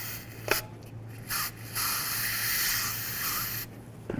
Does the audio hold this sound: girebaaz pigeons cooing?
no